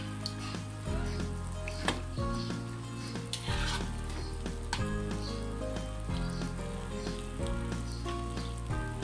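Cooked beef goes into a pot of Old Dhaka-style beef tehari, making a close, continuous sizzle with regular stirring scrapes and thumps about every second.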